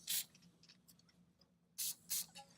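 Aerosol lubricant sprayed onto a rubber exhaust hanger under a Jeep Wrangler JK during an axle-back exhaust install: three short, sharp hissing bursts, one at the start and two close together near the end, in an otherwise quiet garage.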